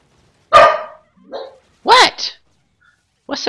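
Dog barking inside a video game, a few separate barks and yelps spaced out over a few seconds, loud and close with short silences between them.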